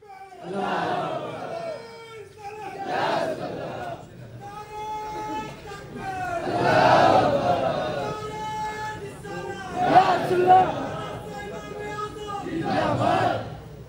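Crowd at a Muslim religious gathering in Bhaga Bazar, Dhanbad, shouting back responses to Takbir slogans: several loud bursts of massed voices roughly every few seconds, alternating with a leader's chanting call.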